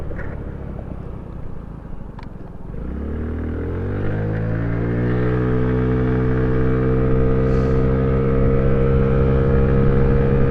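A Honda Ruckus scooter engine revs up from a low idle into a steady, rising drone, its pitch climbing smoothly as it accelerates and then holding loud and close.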